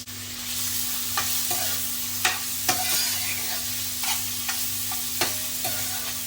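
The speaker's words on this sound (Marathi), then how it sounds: "पहिले तेल घालते कांदा घालते त्याच्यावर तेल गरम झाले" Onion frying in hot oil in a pan, a constant close sizzle punctuated by several sharp spoon clicks and scrapes against the pan over a faint steady hum.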